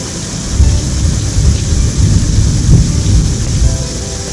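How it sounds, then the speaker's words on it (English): Heavy rain drumming on the roof of a cruising boat at night, with thunder rolling through a dense, loud, continuous roar and no voices. "Listen to the rain on the roof."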